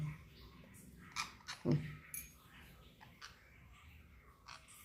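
A pet named Vira, kept in a new cage, gnaws and bites with a few short crunchy bites near the middle, close and fairly quiet, among soft background noise.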